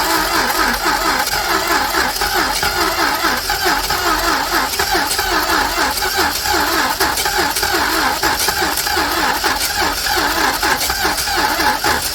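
A 1968 Dodge Coronet, sitting unrun for 44 years after Mount Saint Helens, cranks and runs loudly nearby with a rough, rapid, uneven churning that holds steady throughout and carries no talk.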